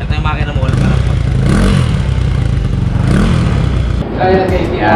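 Close, loud motorcycle engine with a CVT drivetrain revving, a rough rattling drone with clattering mechanical noise that rises and falls in a few surges.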